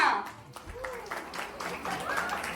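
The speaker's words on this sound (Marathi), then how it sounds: "टाळ्या." Scattered clapping breaks out among family members gathered at a home baby gender-reveal vote, mixed with cheerful chatter and voices throughout.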